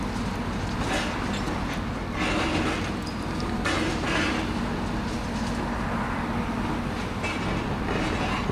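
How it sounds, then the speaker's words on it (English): A green stone crusher is fed by an excavator on a demolition site, giving a continuous heavy mechanical rumble with repeated clattering and rattling of rubble throughout. "he's feeding the stone crusher, the green machine"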